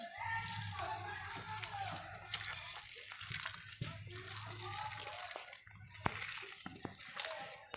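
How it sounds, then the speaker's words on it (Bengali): Water is poured into a banana-flower and fish chop mixture, with splashing and wet mixing sounds mixed into busy kitchen handling noise and faint background voices. "ওর জন্য আমি একটু জল দিয়ে দেবো।"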